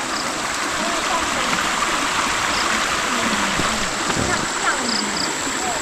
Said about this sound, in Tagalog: Paligo na tayo dyan sa sapa na yan.